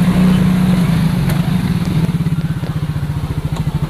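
A motorcycle engine runs close by, first as a steady low drone and then settling into a distinct rapid throbbing pulse as the idle becomes uneven. No one talks.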